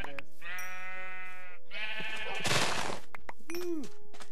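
Two drawn-out Minecraft sheep bleats, loud and close, followed by a short burst of clatter and a brief rising squeak, like game sound effects.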